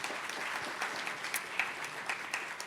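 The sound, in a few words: audience applause at a reception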